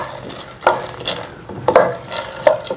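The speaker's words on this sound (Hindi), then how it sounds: "सबसे पहले हमने 125 ग्राम यानी कि आधा पाव मूंगफली भुनी हुई ये देसी घी में भून लेते हैं" Pre-roasted peanuts are stirred in hot desi ghee in a village-style kitchen, a low sizzle running underneath three distinct scraping strokes of the spoon across the pan, close and clear.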